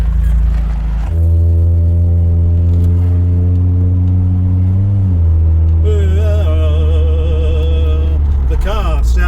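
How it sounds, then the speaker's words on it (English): A Honda Prelude engine runs steadily up close, its droning hum carrying a tonal, almost singing whine that swells and shifts in pitch partway through. "The car sounds like it's singing."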